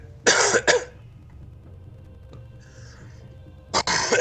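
Two bursts of coughing, a harsh double cough near the start and another a few seconds later, separated by quiet.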